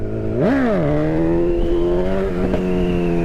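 A motorcycle engine revs hard into a quick rising whine, then settles into a steady, strong drone as the bike holds a wheelie at around 20 to 25 mph.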